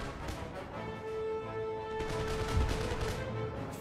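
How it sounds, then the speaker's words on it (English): Crackling volleys of musket fire from massed infantry in Empire Total War roll on continuously at a moderate distance, overlapping shots forming a dense, unbroken rattle with occasional heavier bursts. "Firing into the mass of men."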